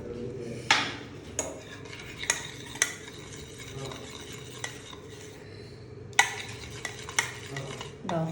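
Arabic pudding mixture being stirred in a pot, spoon clinking and scraping the sides at an irregular pace over a faint low hum, close and fairly quiet, with no voices.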